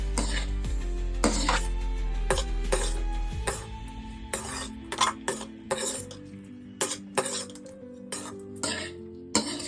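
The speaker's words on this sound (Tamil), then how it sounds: "இப்ப எல்லாத்தையும் சேர்த்து கிளறி விட்டுலாம்" Mango rice with ghee and coriander stirred in a pan, a series of sharp spoon scrapes and clinks against metal spaced every second or so, played over steady background music.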